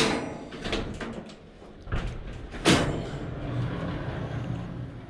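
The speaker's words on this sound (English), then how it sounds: "open the door." A classic Mini's door is opened outdoors in miserable weather, giving a couple of short clunks and latch knocks against a steady background hiss of rain or wind, with no talking.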